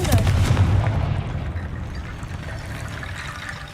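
A Confringo blasting curse explodes in Hogwarts Legacy, a loud, deep blast at the start that rolls off into a crackling, rumbling tail of debris and lingering noise, with no voices.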